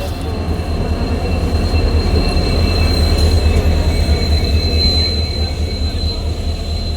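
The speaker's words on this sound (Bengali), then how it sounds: "একটু পরেই আমাদের ট্রেন চলে আসবে।" A train pulls into a railway station with a loud, close, continuous rumble of rolling carriages and a high squeal of wheels on the rails, with no voices.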